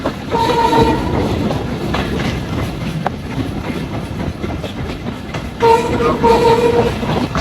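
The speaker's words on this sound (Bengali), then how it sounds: "ট্রেন যত জোরে চলতেছে দেখতে পারতেছো কি পরিমাণ" A local passenger train near Chapai Nawabganj, Bangladesh, rattles along fast with continuous rumbling and clatter, and short horn blasts near the start and again near the end.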